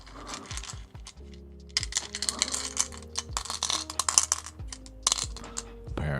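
Real rune stones clatter and click as they are shuffled by hand, giving a rapid, dense run of sharp stony clinks with short pauses, close and fairly loud.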